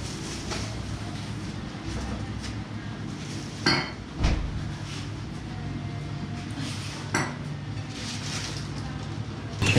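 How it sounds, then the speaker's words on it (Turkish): Diced meat seasoned with salt and spices cooks in a pot, giving a steady low sizzle and rumble with a few clanks of a utensil against metal, close up and without speech. "Böyle biraz tencerede pişiriyorum bunu."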